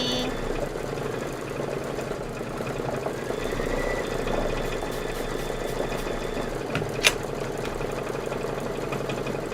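A sewing machine stitches a seam in steady, rapid mechanical clatter, a quiet continuous run with a short sharp click near the end.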